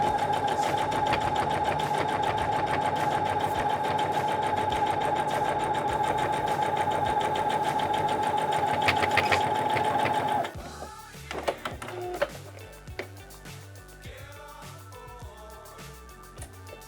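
Sewing machine running steadily and loudly for about ten seconds while stitching a new seam on a fabric desk organizer, then stopping, followed by softer handling clicks and rustles.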